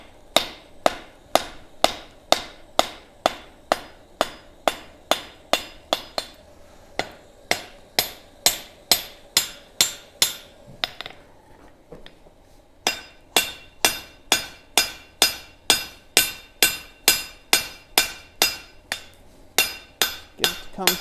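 Hot metal hammered on an anvil beside a gas forge: loud, sharp ringing blows struck in a steady rhythm, roughly two per second, in long runs broken by brief pauses, with no talking.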